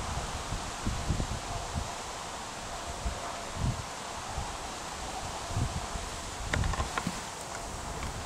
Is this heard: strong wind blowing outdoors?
yes